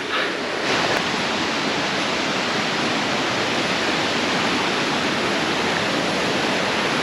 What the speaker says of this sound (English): You can access the stream just here a little bit.